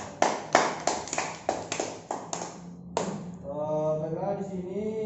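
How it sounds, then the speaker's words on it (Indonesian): Students in a Grade 5 classroom give applause after a correct answer about cow digestion. It comes as a string of about eight sharp, evenly spaced claps, then a brief burst of clapping that fades under a lingering tone. "tepuk tangan kita semua"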